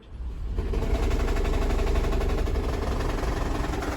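Engine of a 2nd-generation Toyota Prius hybrid car starting and running, a steady, loud low rumble with a fast pulsing texture that builds in and holds without talk.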